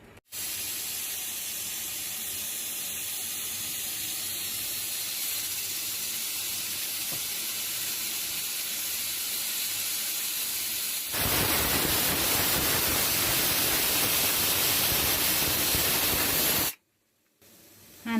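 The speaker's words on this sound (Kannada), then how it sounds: "ನೋಡಿ, ವಿಷಲ್ ಆಗಿದೆ." Pressure cooker with brinjal curry inside lets off steam in a continuous loud hissing whistle, rising to a harsher, brighter blast partway through before cutting off abruptly, close and with no talking.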